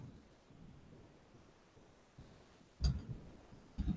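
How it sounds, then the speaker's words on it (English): Thunder from an approaching storm rumbles in two heavy low bursts near the end, over a steady soft background of rain-like noise. "All right, so that's a storm coming in now."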